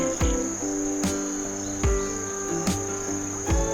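Crickets and cicadas trill steadily along a mountain trail, a faint continuous insect chorus punctuated by several brief sharp knocks or footsteps.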